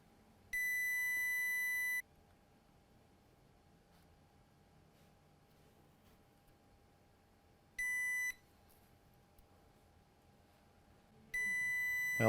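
A multimeter set to diode mode on an Asus GL504G laptop board beeps in three steady tones, a long one, a shorter one and a third at the end, each a pure continuous pitch signalling a short, over faint background hiss.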